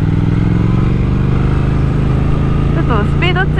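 A Triumph Speed Twin 1200 motorcycle engine runs with a steady, loud low rumble as someone talks over it.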